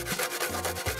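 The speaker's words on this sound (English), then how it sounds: "Unless you're gonna start grating." Coconut being grated by hand, a steady rasping scrape repeated in rhythmic strokes, close and fairly loud with no talk.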